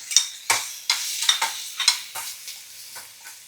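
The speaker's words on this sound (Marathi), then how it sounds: "कढीपत्ता हे थोडंसं रोस्ट करून घ्यायचं त्याच्यामध्ये ह्या बटाट्याच्या फोडी टाकायच्या" Potato pieces frying and being stirred in a pan with roasted curry leaves and chilli paste, a series of close sizzling scrapes and stirs roughly every half second, fading toward the end.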